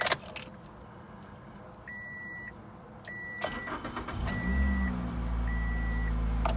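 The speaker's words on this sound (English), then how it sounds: "You hear that? That's the air injection pump." On a Toyota Corolla XRS the engine starts and the air injection pump runs right afterward, a steady loud droning whir building under the idle, while a chime beeps in repeated short bursts.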